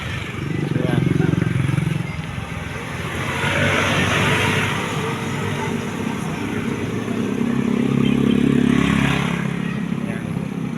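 Motorcycle tricycles passing on a town street in Madrid at night, engines rising and fading as they go by, with a louder pass near the end, under occasional background voices.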